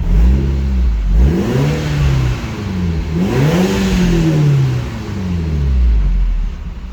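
A Volkswagen GTI engine revs up and down through several sweeps from idle, loud and close, a smooth rising and falling drone with no talking.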